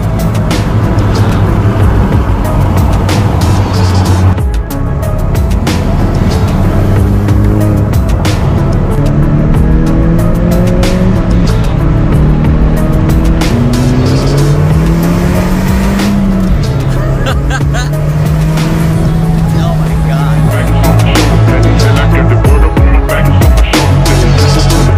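A modified Ford Focus RS with 375 whp, heard from inside as the engine roars loudly, revs climb and drop through shifts, and the tires squeal briefly, while occupants chat over the noise.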